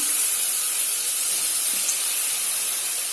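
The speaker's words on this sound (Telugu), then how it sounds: "ఇప్పుడు నేను పెద్ద పెద్ద కట్ చేసుకున్న వంకాయ ముక్కలు వేస్తున్నాను" Big chunks of eggplant sizzle in hot oil in a pan with turmeric and chana dal, a loud continuous bright hiss and crackle that stays even throughout, with no voices.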